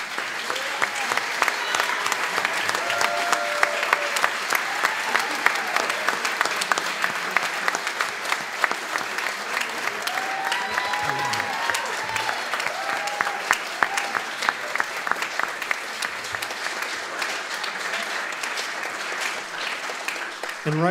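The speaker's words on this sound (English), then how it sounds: "Folks, would you stand up and accept our applause?" A concert audience gives a long, sustained round of applause for student jazz band players, dense clapping filling the hall for about twenty seconds with occasional cheers.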